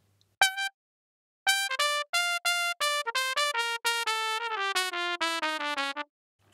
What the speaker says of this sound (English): trumpet without reverb sounds like this.